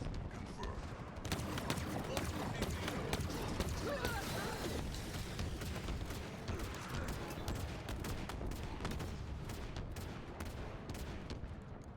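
Bursts of gunfire from a new shotgun in a video game crackle densely and steadily from start to finish, a loud, busy barrage with people talking over it.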